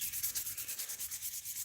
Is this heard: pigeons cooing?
no